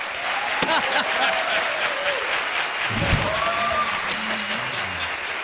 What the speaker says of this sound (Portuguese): Mais aplausos, né, Danilo?